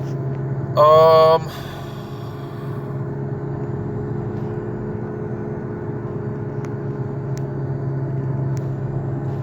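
Steady low road rumble and engine drone from inside a moving car, continuous and close, with a short tonal chime near the start and no talk over it.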